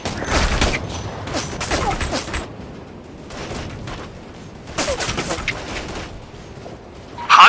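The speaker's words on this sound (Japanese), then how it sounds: "こちらアルファ、銃撃を受けている。" Gunfire in Operation Flashpoint: repeated sharp volleys of rifle shots come in clustered bursts with short lulls between, fairly close and loud, and a final burst at the end.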